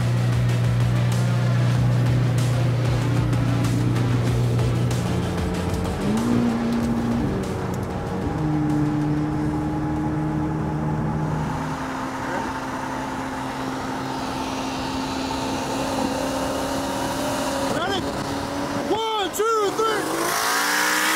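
A tuned 2018 McLaren 720S running an E85 map with ID1050 injectors, downpipes, exhaust and intake, loud and close at a street race: steady engine drone with rising pitch steps, then tire and exhaust bursts near the end.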